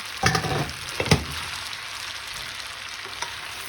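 Spaghetti sizzles and spatters in oil in a hot frying pan, with a couple of louder bursts early on as it's stirred, then a steady frying hiss.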